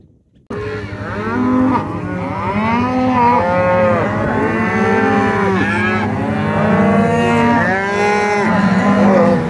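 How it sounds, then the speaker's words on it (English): Many cows on a farm moo loudly and continuously, their overlapping calls rising and falling close by for several seconds, with no talking. "Look at the cows."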